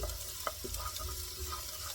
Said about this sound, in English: we're going to add the chopped garlic